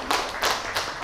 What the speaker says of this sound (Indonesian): Tepuk tangan untuk Nabila, tadi udah nanya.